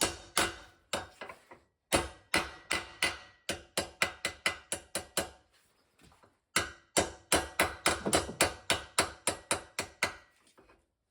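Repeated hammer blows knock a hitch part into place on a Massey Ferguson 35 tractor, two bursts of steady, sharp metallic strikes separated by a brief pause, close and loud with no talking.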